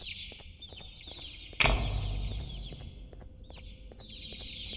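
Chickens in the video game Garten of Banban give high, rapid peeping clucks throughout, with a sudden loud thump partway through and a steady game background.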